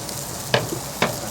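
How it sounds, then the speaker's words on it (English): Two brief bursts of sizzling from meat in a hot pan, soft and close, with a quiet hiss in between and no talking. "Okay, there's a slight sizzle."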